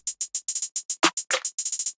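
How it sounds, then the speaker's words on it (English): Clap snare from the Stash Volume 3 kit cracks twice in quick succession over a steady run of crisp, rapid hi-hat ticks in an experimental trap beat built in FL Studio, fairly loud with no talking. "Then this simple clap snare right here, which I'm previewed just for like 1 second."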